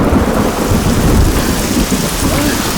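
Heavy rain pouring down with rolling thunder, a dense, loud and continuous roar of rainfall with low rumbling underneath and no voices.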